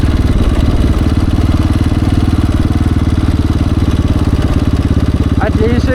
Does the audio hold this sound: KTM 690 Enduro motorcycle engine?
yes